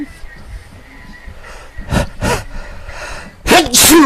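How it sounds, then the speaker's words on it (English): A sudden, loud sneeze bursts out near the end, preceded by a couple of sharp intakes of breath and quiet background noise. "I feel like I'm about to sneeze."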